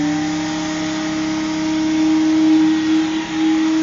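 A vacuum cleaner running during a cleaning training session in Indonesia, a loud steady motor whine with a constant hum that holds throughout, a brief dip near the end, no voices.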